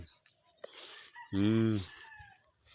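A hen clucks nearby, followed by a loud drawn-out call, with faint outdoor background around it.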